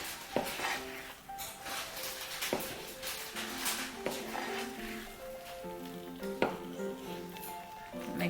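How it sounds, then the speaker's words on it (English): Semolina stirred in a pan with a metal utensil, irregular scraping clinks and taps against the pan over a faint sizzle, close and fairly quiet, no talking. "Even as you drop them in, keep stirring it, keep mixing it."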